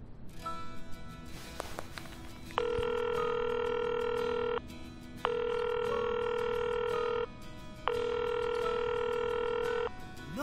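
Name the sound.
phone ringing unanswered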